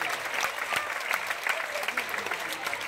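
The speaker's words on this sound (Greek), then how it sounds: "Νομίζω που σας αξίζει ένα πολύ μεγάλο χειροκρότημα." Applause for a children's theatre workshop finale, a close, busy patter of many hands clapping continuously at steady volume, with a few voices faintly mixed in.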